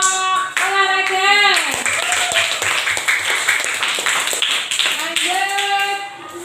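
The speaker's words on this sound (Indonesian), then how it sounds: "Ayo tepuk tangan untuk kelompok olahraga." Classroom applause from schoolchildren clapping for a sports group, a dense burst of hand claps over a couple of seconds, with children's voices talking and calling over it before and after.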